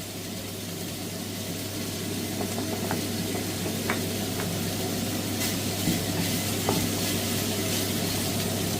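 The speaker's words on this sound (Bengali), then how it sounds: "এখন এই যে ব্রকলি আর বরবটি এগুলো দিয়ে দিচ্ছি" Broccoli and long beans stir-fry in a hot pan with soy sauce, giving a continuous close sizzle and crackle with a low steady hum beneath, no talking.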